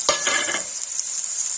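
Chopped onion hits hot oil in a pan for an egg curry, bursting into a loud, close sizzle with a crackling onset that settles into a steady hiss, no voices.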